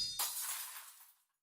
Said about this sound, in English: I hear the sound of shattering glass